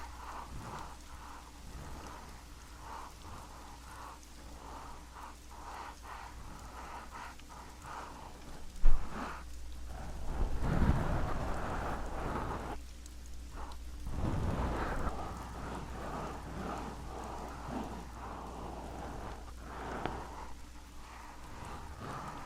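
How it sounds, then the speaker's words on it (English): Steady rain patters throughout, with low rolls of thunder swelling twice in the middle and a sharp crack just before them, heard at moderate distance with no voices. "Can you guys tell me if the rain is too loud?"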